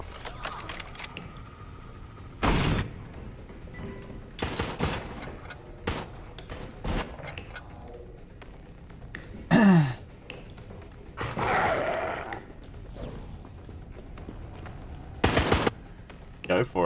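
Camera turrets fire in the video game Resident Evil Resistance, sending out sharp bursts of gunfire again and again at irregular intervals. The shots sit over a busy bed of game noise, with a voice audible at moments.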